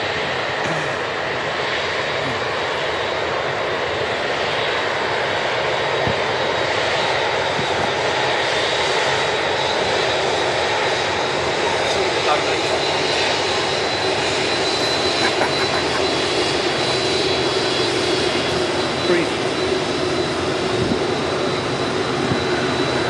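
A large aircraft taxis past at Manchester Airport, its jet engines making a loud, steady roar with a faint high whine that holds constant throughout, heard outdoors with no talking.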